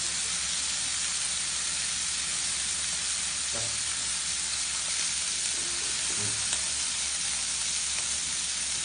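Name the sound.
spices and shrimp frying in a pan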